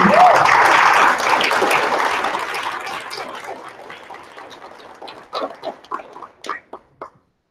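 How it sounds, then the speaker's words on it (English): A spelling bee audience applauds the spellers, a loud burst of clapping that thins and fades, ending in a few scattered separate claps. "Give a round of applause for spellers 5 and 7."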